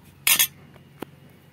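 A spoon clinks against a bowl while measuring cumin powder, chilli powder and coriander powder: a bright double clink near the start and one lighter tap later, close and fairly quiet in a still kitchen.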